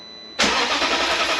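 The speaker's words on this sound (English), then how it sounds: "That is the strongest start this car has ever had since I've owned it." A BMW X5 4.8i E70 cranks and fires on a newly replaced starter, a brief start that settles straight into a loud, steady engine idle heard up close, with no talk.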